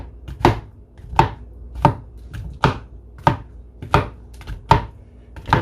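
Knife chopping tomatoes on a cutting board for a balsamic tomato and asparagus salad, eight or nine evenly spaced crisp cuts at a steady unhurried rhythm, close and clear.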